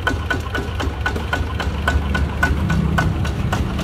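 A ZT155 plus engine mounted on a YC7 tiller runs steadily at a slow idle, with a close, continuous low chugging and rhythmic knocking pulses, heard alone without talk.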